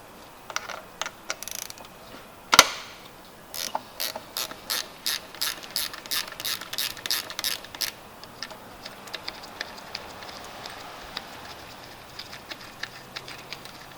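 A ratchet works on bolts during an alternator replacement on a 2018 Lincoln MKC 2.0L turbo, clicking in quick bursts of rapid ticks, with one sharp metallic clank near the start, then fainter clicking trailing off, close by.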